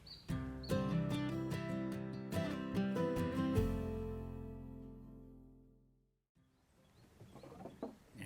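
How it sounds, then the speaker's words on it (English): Birds call beside a canal at a Thai floating market, with clucking, fowl-like notes that come in close, loud bursts, then fade into quiet with a few faint calls after. "You hear all the birds chirping."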